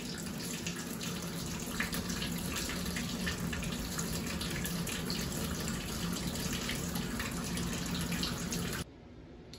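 Warm water pours steadily into a bathtub in a spare bathroom to soak hand-spun yarn, a constant rushing gush that stops abruptly just before the end.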